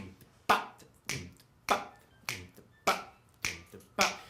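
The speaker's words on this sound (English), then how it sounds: "A rock rhythm sounds like this." Finger snaps in a steady, evenly spaced rock rhythm pulse, roughly one every 0.6 seconds, crisp and close with nothing else playing.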